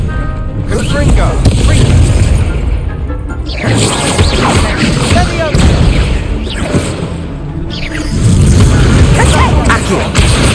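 Confringo explosive spell cast in Hogwarts Legacy, dense booming blasts and crashes repeating over game music and effects, with someone shouting at intervals.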